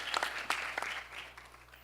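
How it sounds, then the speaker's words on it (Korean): Audience applause at a 2018 horse-industry idea contest presentation, a burst of scattered clapping that starts loud and tapers off over a couple of seconds. "다시 한번 큰 박수를 부탁드리겠습니다"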